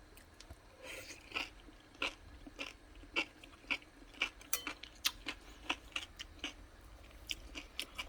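Close, crisp crunching bites of a sweet-and-sour Korean cucumber salad, chewed in a steady rhythm with occasional utensil clicks, no talking.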